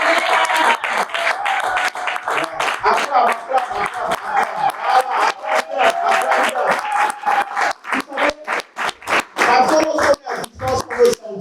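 A church congregation applauds, with loud, dense clapping that swells, breaks into rhythmic bursts and then thins toward the end, while voices call out over it.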